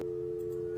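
A telephone busy signal plays in the Nancy Drew game The Final Scene, a steady, loud, close tone that holds for most of the moment before cutting off, with no talk over it.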